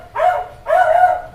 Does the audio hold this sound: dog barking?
yes